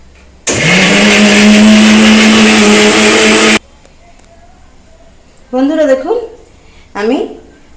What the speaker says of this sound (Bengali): মশলাটা আমি এবার মিক্সিতে পেস্ট করে নেব